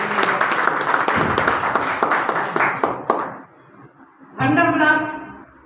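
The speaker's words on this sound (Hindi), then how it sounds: "तो दोस्तों जोरदार तालियां।" An audience at an AWPL product presentation breaks into loud applause, sustained clapping that fades out and then gives way to amplified talk.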